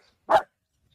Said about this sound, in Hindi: देखिए ये दोबारा भौंक रहे हैं